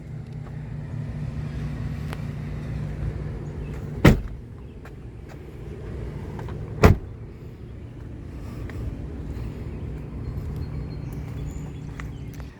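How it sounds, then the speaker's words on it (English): Rear hatch of a 1996 Toyota Land Cruiser HDJ80 diesel opening, with two sharp mechanical clunks a few seconds apart over a steady low background hum. "Let's go ahead and open the rear hatch."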